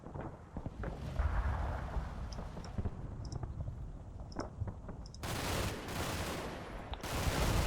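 Sustained gunfire and explosions from the Combat Mission Red Thunder war game, dense and continuous, with louder, harsher bursts of firing in the final seconds.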